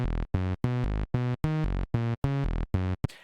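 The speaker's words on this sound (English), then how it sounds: "And the saw wave sounds like this. Just a basic saw with some cutoff." Basic saw wave bass synth with filter cutoff in a Filterverse plugin demo, playing a choppy sequence of about ten short buzzy notes with brief gaps between them, loud and clean, alone.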